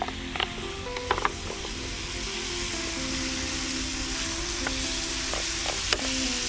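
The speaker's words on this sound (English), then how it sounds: "Chicken is frying." Chicken fries in a pan with garlic and ginger, giving a steady close sizzle with scattered pops and small clicks from stirring.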